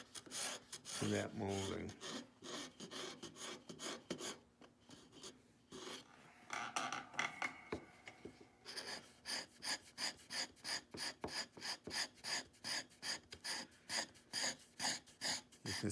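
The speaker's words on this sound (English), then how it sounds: "You can see how nice that scraper takes it off" A chisel scrapes a wood molding on a swivel breech rifle kit, with a brief spoken phrase near the start, then an irregular patch of rubbing and a long run of quick, even scraping strokes near and fairly quiet.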